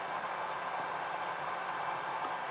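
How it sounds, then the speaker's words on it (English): A battery charger for RC crawler batteries gives off a steady, even hiss of electrical noise, continuous and unbroken throughout, with no talking. "I'm sorry about the charger noise."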